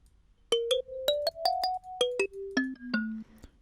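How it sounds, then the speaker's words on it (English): A marimba patch on the Serum synthesizer plays a short melodic run of plucked, bell-like notes, rising then falling, clean and unaccompanied. "up first we have just this marimba sound."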